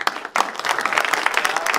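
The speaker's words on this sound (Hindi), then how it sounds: "एक बार जोरदार तालियां" Audience applause at a shayari poetry gathering, a dense burst of clapping that starts after a brief dip and stays steady and fairly loud throughout.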